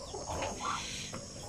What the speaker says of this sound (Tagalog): Dagdag na tandang kasi kulang tayo.